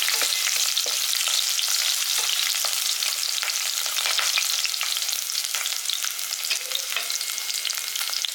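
Garlic and spices sizzle and crackle steadily in oil in a pan, with scattered sharp pops and occasional stirring scrapes, close up and without talking.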